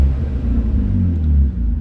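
Petrol car with an unidentified exhaust, a deep steady rumble held close and loud for under two seconds, with no voices.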